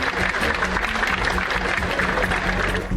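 A plenary session audience applauds news of Trump's victory steadily, a dense wash of clapping hands filling the room from start to finish.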